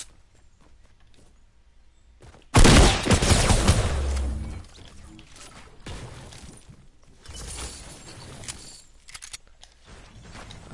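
Fortnite gunfire: a sudden loud burst of rapid shots erupts, then sputtering follow-up shots and crackles trail off, with quieter game sounds in between.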